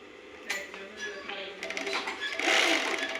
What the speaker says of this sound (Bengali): দেখেন আপনারা সুন্দরভাবে সেলাই হতেছে